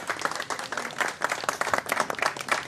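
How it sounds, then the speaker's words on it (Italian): An audience applauds an oriental dance performance with a dense, steady burst of many hands clapping together, close and lively throughout. "E un applauso per Eva Bellotto, bellissimissima questa esibizione di danze orientali."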